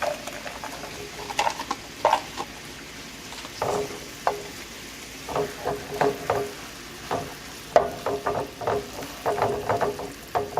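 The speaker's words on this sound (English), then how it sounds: "we're gonna go ahead and add our cheese" Cheese being stirred into warm cream and butter in a pan over medium-low heat: a soft bubbling sizzle under repeated wet scraping and tapping strokes of a utensil, growing busier toward the end, with no talking.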